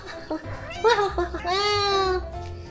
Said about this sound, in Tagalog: Yan ang aking napakakulit na pusa